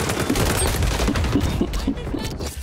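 AK assault rifle in the video game XDefiant, rapid bursts of gunfire in a dense, loud fusillade with a player talking over the shooting.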